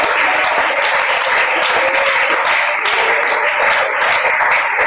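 Church congregation applauding, a dense, steady wash of clapping that stays loud and even for the whole stretch with no pauses.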